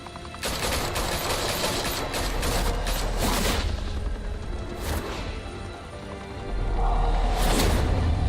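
Sustained video-game gunfire in Batman: The Telltale Series, a dense fusillade of rapid shots and loud bursts throughout, with heavier impacts near the end.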